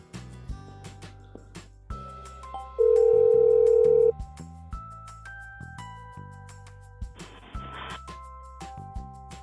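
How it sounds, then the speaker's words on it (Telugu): A kids' smartwatch plays its video-call ringtone, a bright melodic sequence of electronic tones with a held beep partway through, loud and close. "సో వీడియో కాల్ చేస్తున్నాను."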